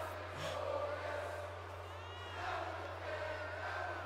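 A large arena crowd sings and chants steadily in the WWE 2K18 wrestling game, with a sustained swelling roar and no clear talk over it.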